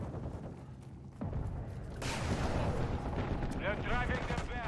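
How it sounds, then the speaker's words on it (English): Heavy rumbling explosions from a precision airstrike in the video game Modern Warfare 2, a low booming mass that swells in stages and stays loud and continuous, with whistling and crackling debris layered on top toward the end. "Friendly precision airstrike inbound."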